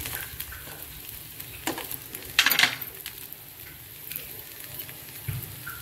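A veg cutlet sizzles steadily in ghee in a pan over medium-low heat, with soft crackle throughout and a brief louder spatter burst midway; no talking.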